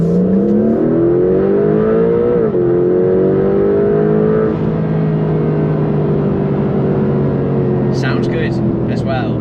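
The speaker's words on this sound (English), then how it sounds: "you get this whir in the background on top of some engine noise" A Porsche 911 992.2 GTS Targa hybrid pulls away hard, its loud, close engine drone rising in pitch with an electric whir layered on top, easing into a steady high-revving hum, with a few light clicks near the end.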